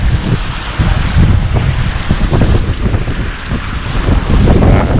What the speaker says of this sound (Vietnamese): Đó thì gió rất là mạnh.